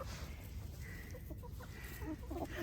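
Silkie chickens cluck softly and intermittently nearby, with short murmuring calls scattered over a low background hum.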